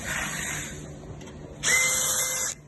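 A power drill backs screws out of the back panel of a FibroPool FH120 pool heater, with a close whirring burst, a brief lull, then a louder, higher-pitched spin before stopping.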